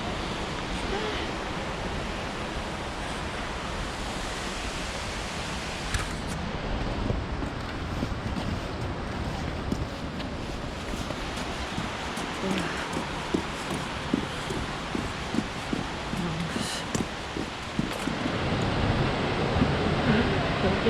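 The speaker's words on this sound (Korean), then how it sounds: "이게 폭포인데 진짜 저 다리까지 올라갈 거예요" A waterfall near Portland roars in a dense, continuous rush of falling water that stays steady and loud throughout, mixed with wind buffeting the microphone.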